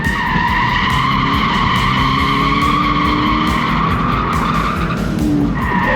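A car drifting with its tires skidding and squealing in a long, loud continuous screech over a roaring engine, close by and sustained, with no talking.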